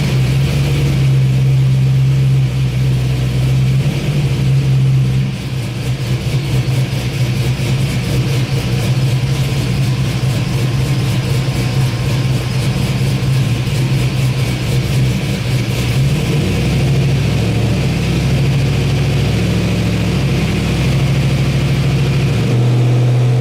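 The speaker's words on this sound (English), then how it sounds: "So I'm gonna do a dyno run and kind of see where this thing's at." A Chevy S10 pickup fitted with a 5.3 V8 runs on a dyno, a loud, steady engine drone that holds through most of the run with a short dip and shifts in pitch as it pulls, with no talking.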